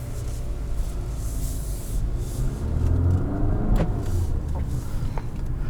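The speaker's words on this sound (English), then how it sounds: "But let's go for a drive. We're in sport mode." Interior engine and road noise from a 2021 Infiniti QX50 Luxe with a 2-liter turbocharged variable-compression four-cylinder and CVT, driven in sport mode; a steady low drone swells slightly as it pulls, with faint clicks and no talk.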